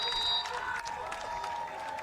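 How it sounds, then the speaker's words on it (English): A college football crowd at Jerome Field, Dickinson State at Mayville State, applauds and cheers at moderate distance, a steady wash of clapping and voices with a few brief tonal sounds over it. "Crowd is loud and proud here at Jerome Field."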